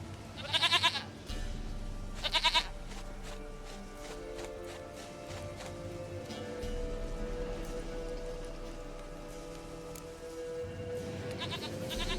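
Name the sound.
goat bleating in The Witcher 3 video game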